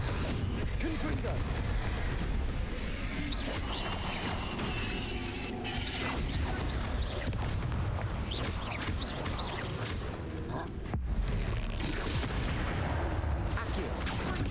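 Spell combat in Hogwarts Legacy, with a Confringo fire spell bursting among rapid casts, producing dense crashing blasts and mechanical clatter over a busy, loud battle soundscape, continuous throughout with a brief dip near the end.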